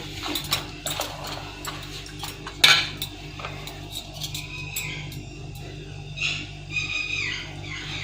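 A spoon clinks and scrapes against pot and serving dish while chatpate aloo chanay, a spiced potato and chickpea curry, is dished out: scattered metallic taps with one sharp louder knock, over a low steady hum.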